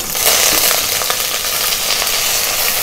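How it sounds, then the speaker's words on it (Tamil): Mustard seeds, urad dal, chana dal and curry leaves sizzle and crackle in hot oil in a pan, a loud, steady frying hiss with scattered popping, close up and with no voices. "இப்போ வாண்டியில் எண்ணெய் ஊற்றி வச்சுருக்கேங்க முதல்ல கடுகு உளுத்தம்பருப்பு கடலைப்பருப்பு கருவேப்பிலை"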